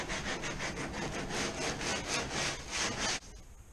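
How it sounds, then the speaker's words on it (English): A worn, repaired keel on a poly plastic kayak is sanded by hand in quick, rhythmic back-and-forth strokes, about a dozen close, loud rasps that stop abruptly near the end. "I'm just about to give it a bit more of a sand to see how it's finished up."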